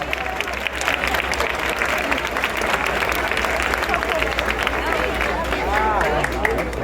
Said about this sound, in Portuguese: Vamos aplaudir Jesus por esse propósito.